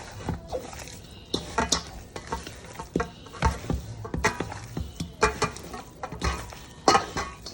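Gumbo ingredients coated in Cajun seasoning are stirred in a pot, giving irregular scraping and clinking bursts with a light sizzle underneath, close by and moderately loud, with no talking.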